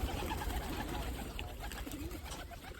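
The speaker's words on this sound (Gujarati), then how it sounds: "તો મિત્રો ઘણા બધા કબૂતર છે આવી ગયા છે." Pigeons gathering at a scattering of wheat grain, with soft low cooing and fluttering movement running steadily throughout under a constant background hum, no talking.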